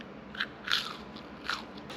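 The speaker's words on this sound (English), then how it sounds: "You want that sound when you crunch into them" Crisp bites into small fried smelt fish give a few sharp, crackling crunches, close up and quiet, over a faint steady background hiss.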